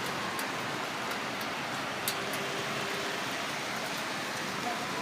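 Rain falling on a cloudy day, heard from a home balcony as a dense, even hiss of steady rainfall with faint scattered drops, continuous and without talking.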